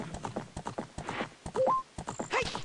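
Rhythmic clip-clop of horse hooves galloping across Gerudo land in Ocarina of Time, with a brief whinny and game chimes mixed in, close and steady throughout.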